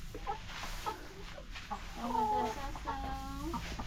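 Chickens gather to drink water and cluck in short, repeated bursts close by, with a few drawn-out calls rising over a murmur of voices.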